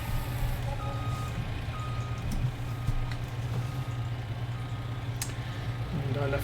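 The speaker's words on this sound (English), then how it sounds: "And I left the truck in reverse, so it's going to beep at us for a while." Truck reversing beeps in a Farming Simulator 19 game, a steady repeating beep over a continuous low engine drone, moderately loud throughout with no talk.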